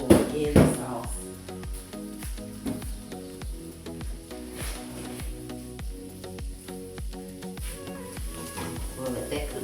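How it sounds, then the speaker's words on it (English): Vegetables sautéing in a pan for a chicken pot pie filling, a steady sizzle with repeated scraping and stirring strokes and an initial louder clatter, fairly close. "I'm sauteing my vegetables ahead of time"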